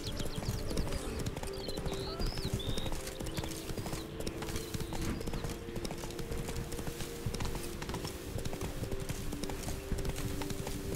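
Rapid clip-clop of horse hooves trotting steadily in The Witcher 3 video game, with an occasional faint whinny, busy and continuous with no talking.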